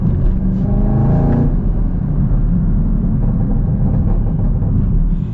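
Chevrolet Camaro ZL1 with a manual gearbox accelerating, its exhaust a loud, steady, close-up rumbling roar that rises in pitch early on and holds throughout, with no voices.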